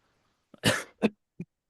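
A single person lets out a harsh, loud cough burst followed by two shorter hacking coughs, close to the microphone in an otherwise quiet room.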